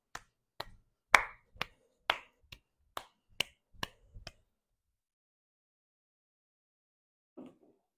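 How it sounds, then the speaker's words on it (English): A person claps their hands while jogging around a dog during a relaxation training exercise, about nine sharp, separate claps in an uneven rhythm close by, followed by silence and a faint brief sound. "clapping your hands"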